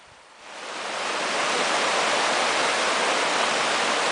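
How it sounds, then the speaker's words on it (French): A small stream with rapids flowing down toward Potton in the Quebec forest, a steady broadband rush of water that swells in during the first second and then holds loud and constant. "Donc le petit cours d'eau qui descend vers Potton, donc c'est un petit rapide quand même."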